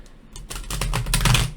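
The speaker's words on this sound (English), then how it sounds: "shuffle these up and mix it up" Oracle cards being shuffled by hand, a rapid run of crisp, close papery riffles and taps that build and grow louder over a second or so, with no voices.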